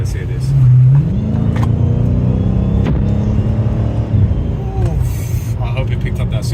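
A supercharged Dodge Challenger engine, heard from inside the cabin with the roof closed, rumbles loudly and revs up and down, with a rising supercharger whine threaded through the deep engine roar.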